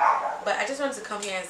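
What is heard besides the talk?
dog barking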